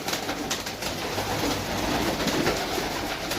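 Pigeons cooing at a pigeon sale in Sarai Alamgir, Jhelum, Pakistan, a steady low murmur of cooing birds mixed with crowd background noise throughout.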